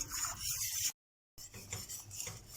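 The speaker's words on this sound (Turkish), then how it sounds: "Sürekli karıştırarak kaynamasını bekliyorum." Tarhana soup being stirred in a pot as it heats on the stove, with a spoon scraping and clinking against the pot in a steady, close rhythm, broken by a brief silent gap.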